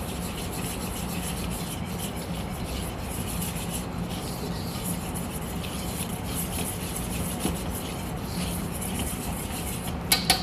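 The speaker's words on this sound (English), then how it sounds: "So then we're gonna whisk that together." Dry pasta dough ingredients with two teaspoons of salt are whisked in a bowl, producing a continuous close scraping and rustling with a steady, even texture throughout and a few light taps at the end.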